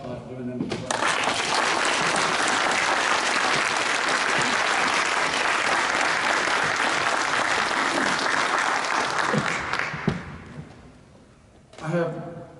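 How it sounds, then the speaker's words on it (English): Loud, sustained applause from an awards-night audience cheering a state-title-winning high school team, a dense roar of clapping lasting about ten seconds before fading, followed by a brief burst of voices. "I'd like to start off by giving them a clap"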